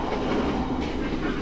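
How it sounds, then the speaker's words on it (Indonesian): The Sri Tanjung passenger train runs at speed, around 90 to 100 km per hour, with a dense, steady rumble and rolling wheel noise heard close up from on board, continuous throughout without speech. "ini dia kecepatan kereta api Sri Tanjung, maksimal 100 km per jam"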